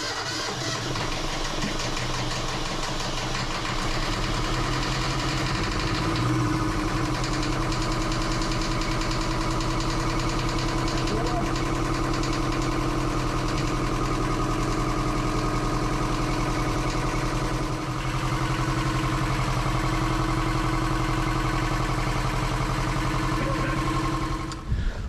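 A sailboat's inboard engine, freshly bled, runs steadily at a low idle with a constant rhythmic throb, close and continuous for the whole stretch with no talking.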